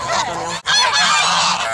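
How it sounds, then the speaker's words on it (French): Greylag geese honking close by, a loud run of nasal calls with one brief pause partway through. "Les oies cendrées en serre feront leur retour vers l'Afrique d'ici quelques semaines."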